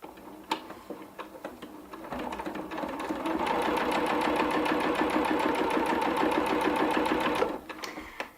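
A sewing machine runs a quarter-inch rolled hem along hammock mesh, a loud, close, steady rapid stitching rattle that builds up and then stops abruptly, with a few clicks before and after.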